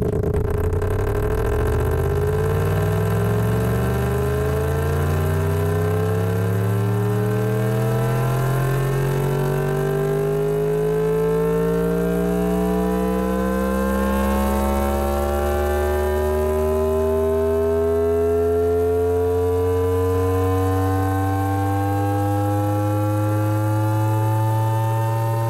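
A simulated car engine in the Engine Simulator game revs steadily upward on a dyno, a loud continuous synthetic drone whose pitch and harmonics climb smoothly throughout, with no talking.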